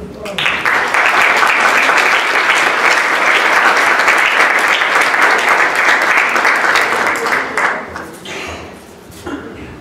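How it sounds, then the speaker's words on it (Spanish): An audience at a youth science forum bursts into sustained, loud applause for a speaker, dense clapping lasting several seconds before tapering off. "recibamos con un aplauso"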